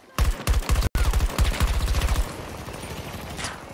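Light machine gun fire from the new LMG in Battlefield 2042 on PlayStation 5: loud, rapid sustained bursts with a brief pause, then the firing fades into softer battlefield ambience.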